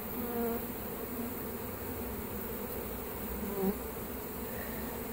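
A dense swarm of honeybees from a bird house cut-out in Lakeland, Florida, buzzes continuously and loudly, with individual bees droning close by now and then over the steady hum.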